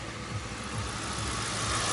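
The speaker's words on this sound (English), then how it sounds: "the engine on this thing is just beautiful. Man, it just runs so smooth." A 1999 Ford Crown Victoria P71 engine runs smoothly in a steady, even idle, a close, loud low rumble and hum with no talk.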